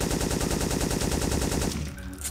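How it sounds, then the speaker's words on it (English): Soldiers fire rapid automatic gunfire in the video game Syphon Filter 3, a dense, loud burst of repeated shots that stops abruptly near the end, leaving a quieter tail. "We got soldiers shooting us."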